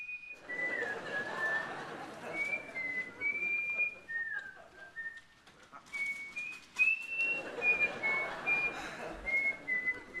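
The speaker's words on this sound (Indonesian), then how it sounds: "jangan bersiul" A person whistles indoors in an office, a thin, wavering tune rising and falling in two stretches with a brief pause, over a low background murmur of voices and room noise.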